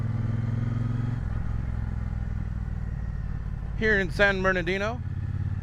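A Triumph hooligan race motorcycle at the Triumph and Douglas Motorsports stand in San Bernardino runs with a low, steady engine rumble throughout, and someone talks briefly over it near the end.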